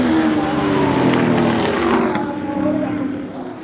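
Pontiac Firebird race cars of the 2019 Australian TransAm Series roar off the green flag, a loud, dense engine drone with rising harmonics that fades slightly as the pack pulls away.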